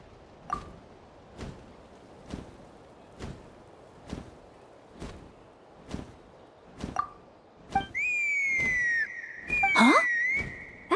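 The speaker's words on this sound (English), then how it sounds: "That sounded like a whistle." A whistle in Genshin Impact, set in Natlan, sounds out clearly as a loud rising and falling tone, alone near the end after a steady rhythm of footsteps.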